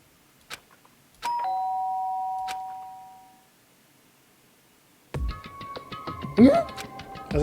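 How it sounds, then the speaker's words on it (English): A doorbell in Danganronpa: Trigger Happy Havoc rings with a sustained electronic chime that fades over about two seconds, set among sparse clicks. Later comes a busier stretch of tones and a voice. "did I hear the doorbell?"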